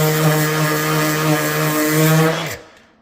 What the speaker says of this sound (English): I've got a fine grit sandpaper on this.